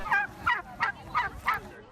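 Turkeys at a sanctuary picnic give five evenly spaced honking gobbles, close and moderately loud, each a short bright call with brief pauses between.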